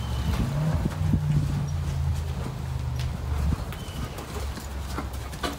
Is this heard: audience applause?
no